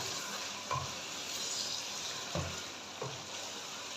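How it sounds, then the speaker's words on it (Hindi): Instant chicken handi stirred in a pot over the heat, a steady oily sizzle broken by three soft scraping stir strokes, close and alone without talk. "अभी मैं इसको अच्छे से मिक्स कर लेती हूँ।"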